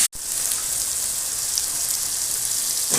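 Onion, garlic and tomato frying in hot oil with mustard seeds, a steady close sizzle with fine crackle running unbroken throughout after a brief silent start.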